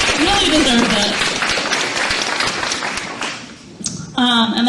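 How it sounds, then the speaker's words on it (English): An audience applauds at a film panel interview, clapping heard near the start under speech, fading mid-clip, with a voice speaking clearly at the end. "Give her another round of applause."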